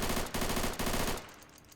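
A WW2 Russian firearm in the ARMA 3 Iron Front mod fires a rapid, loud burst of shots in quick succession that stops abruptly, leaving a short fading tail.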